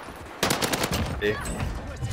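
Automatic gunfire in the video game Warzone: after a brief quiet moment, a loud, rapid burst of shots erupts and rattles on, close and sharp, with a few scattered cracks trailing after it.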